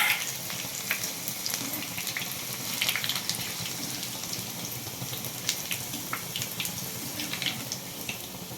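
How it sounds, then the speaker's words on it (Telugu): Garlic cloves and curry leaves fry in hot oil, making a steady close crackling sizzle with scattered sharp pops throughout. "వెల్లుల్లి కూడా ఒక 7-8 వెల్లుల్లి ఇలా వేయించుకోవాలి ఆయిల్లో వేసి."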